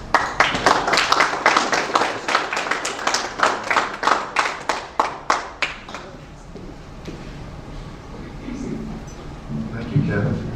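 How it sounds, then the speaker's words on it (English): An audience claps at a ceremony for military veterans, the applause loud and dense for about six seconds before thinning into scattered claps and room murmur. "Please give General Ellis a warm round of applause."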